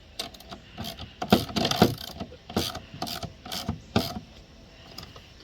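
Braces being tightened on a raised garden bed built from cheap plastic barrels: a string of close, dry ratcheting clicks and knocks in irregular bursts, moderately loud, with no talking.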